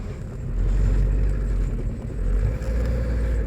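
Car on winter tires rolling off a smooth surface onto a dirt road, a close, heavy low rumble of engine and tires that swells and eases steadily, with no talk.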